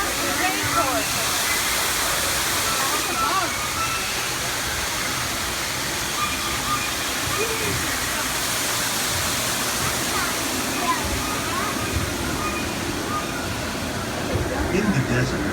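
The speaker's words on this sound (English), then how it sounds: "Why don't you water the rainforest?" Spray misting rainforest plants on Epcot's Living with the Land boat ride, a continuous hissing rush of water steady for the whole stretch, with a narrator talking over it.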